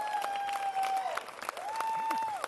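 A live podcast audience claps and cheers softly in the background while a host's voice rises over it, like a held call to the crowd, with the scattered applause continuing under it.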